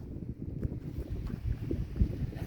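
Strong wind gusting ahead of a storm under grey cumulonimbus clouds, a steady low rumbling roar buffeting the microphone with continuous rough turbulence and no voices.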